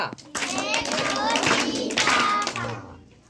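Children in a classroom clap their hands in a quick burst of claps mixed with young voices. The clapping is close and busy, with talk overlapping throughout.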